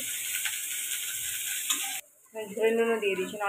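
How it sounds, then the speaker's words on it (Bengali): Onions sizzling in a small amount of oil in a pan for egg curry, a steady close hiss that breaks off abruptly and gives way to a different, more tonal sizzle and clatter. "এর মধ্যে দিয়ে দিচ্ছি পেঁয়াজ, খুব কম তেলে রান্না"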